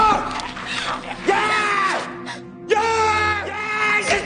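A man screams loudly in the zombie film Alive, with long, strained, wailing cries that rise and fall in two main bursts and a short gap between them.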